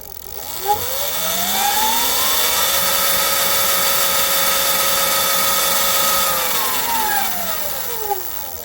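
A Kaniwaba E Ride Pro electric bike motor with a mechanical pedal kit spins up from rest to full speed, a rising whine that holds a steady high pitch, then falls away as it slows.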